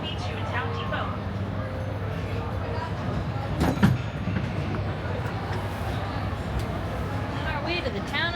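The Disneyland Railroad train rolls toward Toontown Depot with a steady rumble of wheels on track and a brief squeal. A voice speaks over the ride noise.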